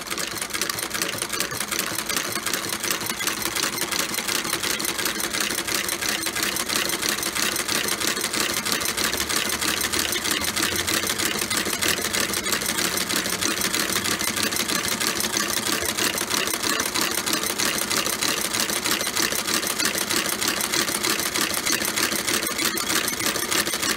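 A stitching machine sews through a Florsheim double monk strap shoe during a resole, a fast steady mechanical chatter running continuously and close for the whole stretch, with no voices.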